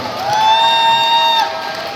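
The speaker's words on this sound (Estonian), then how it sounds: "Palun aplausiga kutsume nad põrandale." Audience at a ballroom dance competition cheers for the finalists called to the floor for the standard dances, a loud, steady crowd roar with a sustained shrill whistle-like tone over it.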